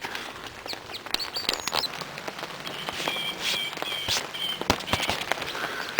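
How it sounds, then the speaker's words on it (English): Rain starting to fall at a wild camp, scattered close drops pattering on surfaces with irregular sharp taps, while birds chirp faintly in the background. "It started to rain."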